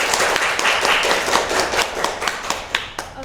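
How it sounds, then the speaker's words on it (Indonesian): A school-club audience breaks into quick, close, steady clapping that keeps up for the whole stretch, a dense patter of many hands with a few sharper slaps standing out. "Aplaus dulu teman-teman."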